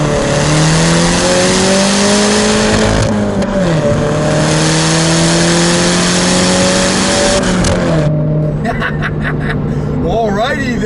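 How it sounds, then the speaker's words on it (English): A 2014 Mini Cooper S engine accelerates hard, loud and close, its pitch climbing through gear changes before crackling exhaust backfires pop near the end. "this is what I like in cars when you get backfires like that"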